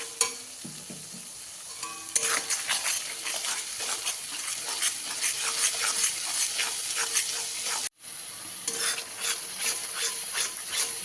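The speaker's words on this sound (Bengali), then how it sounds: "মশলাটা এবার নাড়াচাড়া করে ভালো করে মশলাটা কষিয়ে নেব।" A mushroom curry's spice paste with salt and turmeric is stirred while frying, a constant loud sizzle with repeated scraping strokes, close up, briefly cut off once before resuming.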